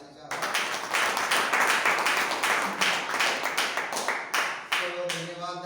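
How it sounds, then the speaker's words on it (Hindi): An audience at a seminar in Mandla gives loud, sustained applause, dense and near, filling the room with overlapping claps that thin out toward the end. "आप सबके सम्मान में एक जोरदार ताली चाहूँगा"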